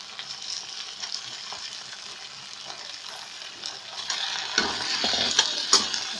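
Thinly sliced potatoes sizzle and fry in a pan for an Indian poha breakfast, with steady scraping stirs that grow louder and busier toward the end, heard alone without talk.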